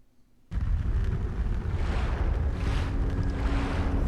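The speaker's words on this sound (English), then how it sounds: "The tanker will explode." A tanker explodes in the video game Resident Evil Outbreak, a sudden loud blast that rolls into a sustained roaring, rumbling wash, with no talking.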